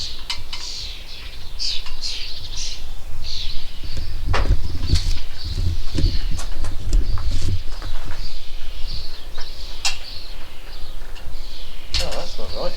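Hungry baby birds chirp in high, busy bursts close by, mixed with knocking, clattering and bumps from work on a VW Crafter van conversion during a solar panel fitting.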